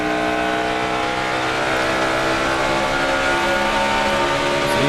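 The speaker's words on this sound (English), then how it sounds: "So he's still running full throttle down the straightaways." NASCAR stock cars racing at full throttle at Homestead-Miami in the 2008 Ford 400, a loud sustained engine roar with layered droning tones that slowly shift in pitch as cars pass.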